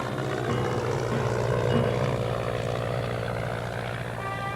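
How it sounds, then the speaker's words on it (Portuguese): A SATA airplane's engines drone loudly and steadily on the runway at Santa Cruz airport, a continuous close roar with a low propeller hum throughout and no talking. "Enquanto cruza o horizonte o avião da SATA, ensaiamos na pista o nosso próprio voo."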